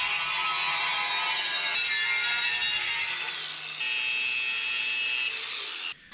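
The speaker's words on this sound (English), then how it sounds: "I'm gonna grind some of this and we'll get it welded" A grinder works steel on a homemade dump bed for a mini dually work truck, a loud, harsh, continuous rasp that cuts out briefly twice and then resumes.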